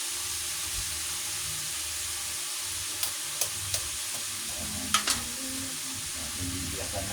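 Eggs are added to bitter gourd frying in a pan, giving a soft, steady sizzle with a few sharp clicks and clatters of a utensil against the pan partway through.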